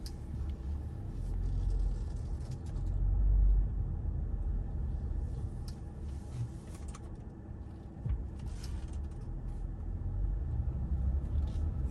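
A car on the road, steady low engine and road rumble from inside the cabin, swelling slightly at times with faint clicks, no talk.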